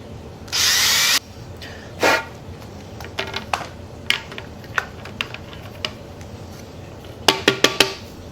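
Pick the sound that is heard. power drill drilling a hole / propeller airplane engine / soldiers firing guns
power drill drilling a hole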